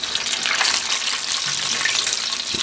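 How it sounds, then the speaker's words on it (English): Crispy fried chicken wings, buttery Korean style, drop into hot sauce with a steady, close, bright sizzle that holds the whole time with no voices. "I'm going to add them directly into the sauce."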